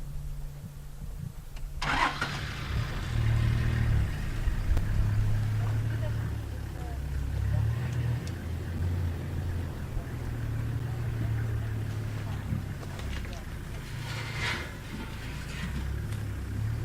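A safari vehicle's engine turns over and runs at a steady medium idle-to-rev, close and fairly loud, while people talk over it outdoors.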